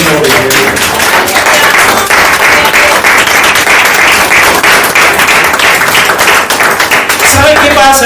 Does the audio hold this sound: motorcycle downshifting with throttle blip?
no